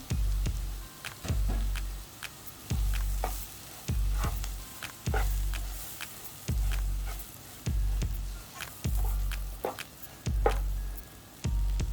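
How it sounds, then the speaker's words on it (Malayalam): Roasted oats being stirred through sizzling vegetables in a pan for oats upma, a steady frying hiss broken by rhythmic scraping strokes roughly every second, close and loud with no voices. "നമ്മൾ നേരത്തെ വറുത്ത് വെച്ചിരിക്കുന്ന ഓട്സ് അങ്ങോട്ട് ഇടുവാണ്"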